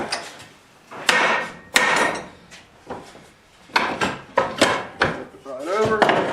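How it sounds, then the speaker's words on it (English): A hammer strikes a mini truck's drive shaft flange to knock out a U-joint: a dozen or so hard metallic blows, some single and some in quick bursts, with brief talk late on. "Hit the actual flange on the drive shaft."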